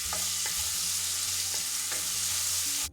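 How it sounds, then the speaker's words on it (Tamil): A teaspoon of ginger garlic paste fries in a pan with a steady, close sizzle and occasional faint stirring scrapes, with no voices. "ஒரே ஒரு டீஸ்பூன் ஜிஞ்சர் கார்லிக் பேஸ்ட் சேர்த்து ஒரு 30 செகண்ட்ஸ்க்கு நல்லா ஃப்ரை பண்ணிக்கோங்க"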